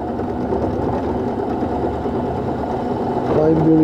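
A mini milling machine makes a climb cut on a steel part from a gate welding jig, a steady close whirring and grinding hum that rises slightly near the end, with someone talking over it.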